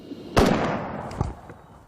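Gunfire from what sounds like an automatic rifle during the Hungerford massacre: two sharp, loud reports about a second apart, each with a long ringing echo that fades into the surroundings.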